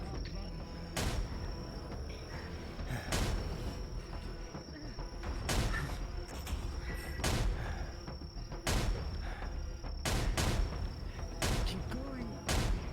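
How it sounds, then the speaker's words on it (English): Cannon fire in a VRChat roleplay battle: sharp booms repeat every second or two over a steady background hiss and chirping, with no voices. "Might as well just sit here underneath cannon fire!"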